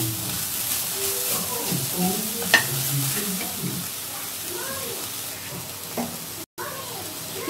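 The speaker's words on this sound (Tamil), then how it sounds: "ஆட் பண்ணிட்டு இன்னும் கொஞ்சம் மிக்ஸ் பண்ணி விடுங்க." Cabbage stir-fry mixed with a spoon in a hot pan after salt is added, sizzling with scraping stirs and faint bits of voice underneath, ending on a brief cut.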